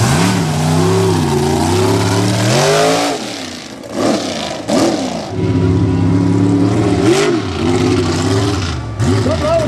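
Mega truck engine revving hard during a Texas mega truck race, loud and close, rising and falling in repeated surges with brief drops between pulls, and an announcer talking over parts of it.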